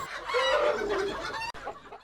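Foreign-breed hens on a poultry farm in Bagerhat, Bangladesh, give a brief burst of close, loud clucking. A short rise and fall of calls comes with a quick break partway through.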